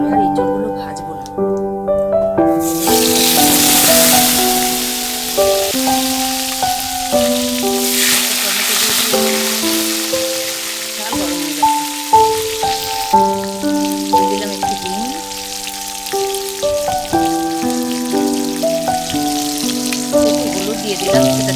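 Whole spices of cumin, cardamom and cinnamon frying in hot oil give a loud, steady crackling sizzle. A voice is heard over the sizzle, and cooking music plays throughout.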